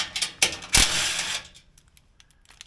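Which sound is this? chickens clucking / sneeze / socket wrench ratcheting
socket wrench ratcheting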